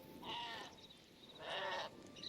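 Two drawn-out sheep bleats from a video game, close and clear, separated by a short pause, with a third cry just beginning at the end; no talking over them.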